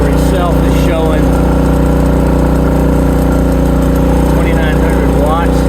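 A Predator 3500 generator runs loud and steady with a constant engine drone throughout, while someone talks faintly over it.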